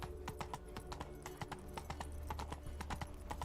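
Geralt's horse Roach galloping in The Witcher 3, a steady rapid run of hoofbeats on the ground, clear and close over a low continuous game background rumble.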